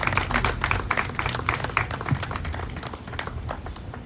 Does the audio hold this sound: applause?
yes